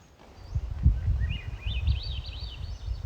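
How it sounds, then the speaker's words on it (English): A Swainson's thrush sings an upward-spiraling series of flutelike notes, clear and moderately near, over low rustling and handling noise, at Tomales Bay State Park. "Swainson's thrush."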